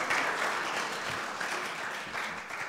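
An audience at a poetry lecture event applauds, producing steady, dense clapping throughout with no voices.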